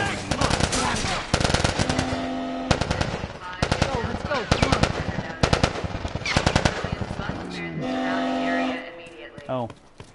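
Loud, close automatic gunfire in The Last of Us Part 1 rattles in repeated rapid bursts with brief pauses, mixed with shouting voices.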